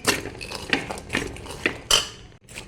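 A metal spoon scraping and clinking against a cooking pan while chickpeas are stirred with jaggery, a steady series of sharp taps and scrapes, close and clear with no talk.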